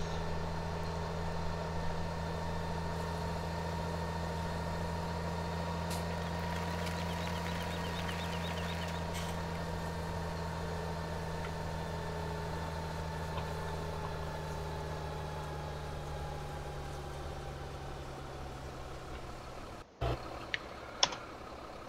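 A tractor engine in Landwirtschafts-Simulator 17 idles steadily with a low, even drone and faint whine for about twenty seconds, then cuts off abruptly, followed by a few brief clicks.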